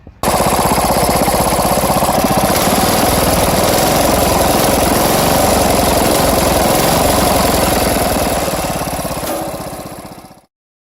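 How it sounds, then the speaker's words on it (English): A Wizard push-mower engine running rich runs loud and close with a rough, rapid throb, then winds down and stops at the very end. "So that's what that engine sounds like."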